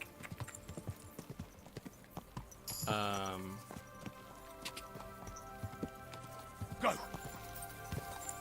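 Horse hooves clip-clop at a steady trot in a video game, a rhythmic run of hoofbeats with a brief neigh partway through, while someone talks over them now and then.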